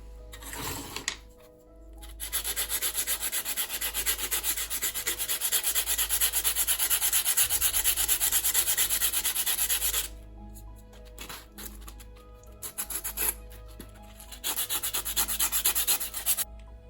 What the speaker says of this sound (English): we'll sand the top a little bit